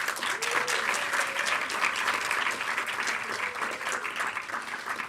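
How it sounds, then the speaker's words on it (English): Sustained applause rises from an audience at a video game industry green summit and awards event, a steady wash of many hands clapping, fairly distant and even, with no clear talk over it. "let's give another huge round of applause to all of our nominees and our award winners"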